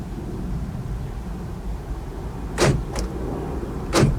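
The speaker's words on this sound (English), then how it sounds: "All right, they just cycle lock and unlock, and you can let go." Power door locks on a 2002-2009 Chevy Trailblazer cycle lock and unlock during key fob programming: three brief, sharp clunks against a quiet interior hum.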